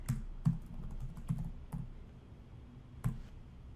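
Computer keyboard typing in short bursts of sharp clicking keystrokes, a few scattered taps with pauses between them, close and clear with no talking.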